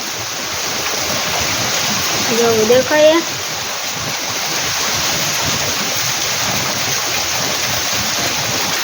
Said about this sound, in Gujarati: ભૂક્કા કાઢી નાખે એવો વરસાદ છે